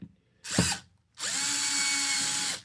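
A Snap-On CTS761 brushed 3/8-inch cordless impact wrench drives screws in two bursts: a quick short blip, then a longer steady whirring run that stops abruptly. It is close and loud, with no speech.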